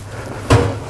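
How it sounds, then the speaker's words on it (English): A single heavy thud of a watertight door opening into a yacht engine room, a short close knock against a low background hum. "from here you can also connect via a watertight door into the engine room"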